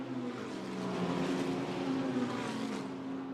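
A BMW GT race car at Monza rolls down the pit lane, its engine a steady mid-distance drone with a sustained tonal note against broad track noise, held at an even level throughout, no speech.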